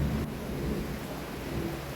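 Steady low thunder rumbles continuously, close and full, with a hiss of rain mixed in throughout.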